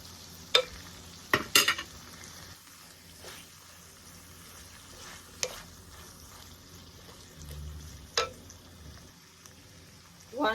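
Vegetable paella mixture with freshly added grated ginger being stirred in a pan, giving a soft scraping hiss with a few sharp spoon clacks at irregular intervals, moderately close and fairly quiet, with no talking.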